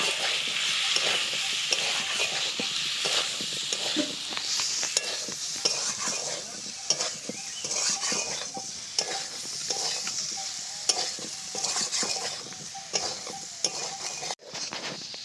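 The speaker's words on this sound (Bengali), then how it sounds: "এবার সব কিছুকে খুব ভালো করে কষাবো বেশ খানিকক্ষণ টাইম নিয়ে" Taro and shrimp stir-fried with spices in a pan, a steady close sizzle broken by repeated scraping and stirring strokes of a spatula against the pan for the whole stretch, with no talk.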